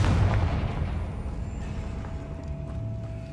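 A Confringo fire spell explodes in Hogwarts Legacy with a deep, loud boom at the start that decays into a steady low rumble under the game's background noise.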